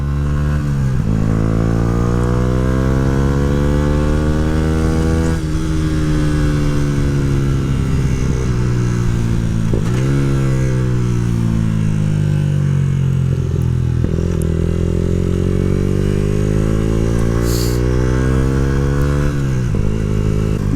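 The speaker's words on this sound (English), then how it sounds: "This bike is so quiet," A Yamaha YZF R125 motorcycle engine runs loud and close, its pitch climbing and falling through repeated revs and gear changes with a steady buzzing drone throughout.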